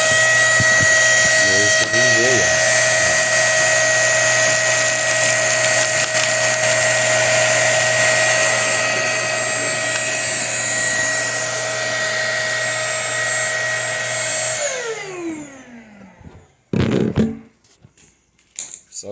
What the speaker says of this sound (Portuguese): Agora eu vou ligar o aspirador.